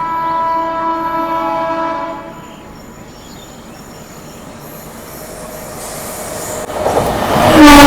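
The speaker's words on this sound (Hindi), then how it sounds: "ये देखो भाई लगातार हॉकिंग देते हुए आ रही है new Delhi Ballia superfast express." A New Delhi–Ballia Superfast Express hauled by a WP5 locomotive sounds a loud, sustained multi-tone horn for about two seconds, then rail noise rumbles on before a louder approach builds near the end.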